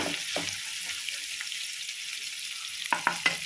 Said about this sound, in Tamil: இப்போ வந்து கரண்டி எடுத்து நம்ம இதை எல்லாமே நல்லா ப்ரௌனாக வறுக்கணும்.